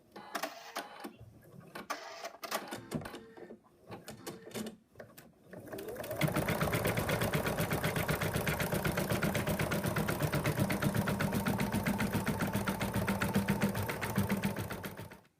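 An embroidery machine stitches the final colour, the shaping outline of an in-the-hoop moose design. A few seconds of handling noise come first, then a steady rapid mechanical chatter runs continuously at close range.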